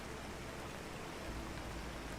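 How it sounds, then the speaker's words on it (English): Soft, steady rain patters somewhere overhead aboard a wooden ship on a stormy night, a dense, even hiss with no voices. "the quiet tapping of rain somewhere above"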